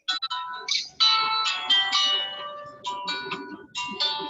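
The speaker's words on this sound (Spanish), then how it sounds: "se nos disparó por ahí un teléfono" A telephone ringtone goes off during a conference talk on labor contracting, playing a bright, repeating electronic melody of short tonal bursts over about four seconds, fairly loud and close.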